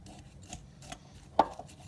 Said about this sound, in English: I'm just using a fork right now because I want to just kind of break up that brown sugar and the eggs